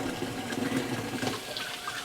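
Warm tap water runs steadily into a tub or sink for a puppy's bath, a continuous close splashing rush at moderate loudness with no talk over it.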